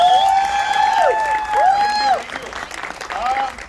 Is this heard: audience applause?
yes